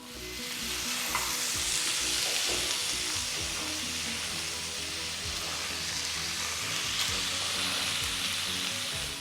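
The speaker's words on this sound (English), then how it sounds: "Here I am using grilled pan. Place the marinated fish on it." Marinated tilapia fish sizzles loudly on a hot grill pan without oil, a dense continuous frying hiss with crackles, close and unbroken throughout.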